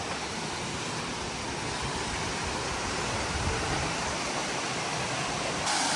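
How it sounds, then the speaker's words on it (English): A waterfall beside a creek in the woods roars as steady, dense broadband rushing water, loud and continuous throughout with no voices. "we made it to the waterfall"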